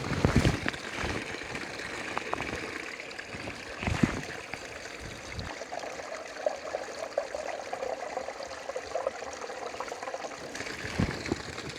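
Mountain water from a stream near a wild camp on Slieve Bearnagh in the Mourne Mountains trickles and gurgles steadily and close by, with a few soft bumps and knocks in the foreground.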